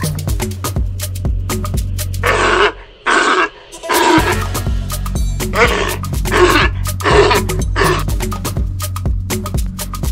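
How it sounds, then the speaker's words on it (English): A sea lion gives loud, hoarse roaring barks, several bursts in a row with short pauses between them, close and dominant, with no talking over them. "sea lion, very beautiful, amazing."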